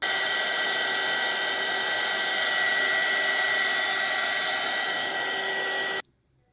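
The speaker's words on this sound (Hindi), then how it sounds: "आप इसको हीट गन के साथ आप इन बबल्स को रिमूव कर सकते हैं" A heat gun blows steadily and loudly for about six seconds, popping bubbles in freshly poured epoxy resin for a box and book stand, a constant hissing airflow that cuts off abruptly near the end.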